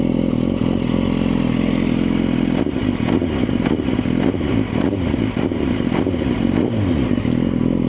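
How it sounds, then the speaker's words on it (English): A motorcycle engine idles steadily nearby with a low, burbling note from a stock full titanium Akrapovic exhaust and some light mechanical clatter throughout. "Pretty quiet with a stock titanium, full titanium Akrapovic exhaust."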